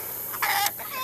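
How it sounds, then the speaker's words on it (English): A hen clucks after laying an egg, a single loud burst of clucking in the middle with quieter fowl sounds trailing after, close to the microphone. "I've got a happy chicken. She just laid me an egg."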